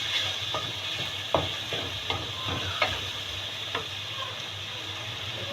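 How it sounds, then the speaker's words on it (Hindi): Green chillies frying in a pan with a continuous soft sizzle, broken by several light scraping stirs of a utensil against the metal. "थोड़ा सा इसको भून लें हम। हरी मिर्चों का टेस्ट आ जाए इसके अंदर"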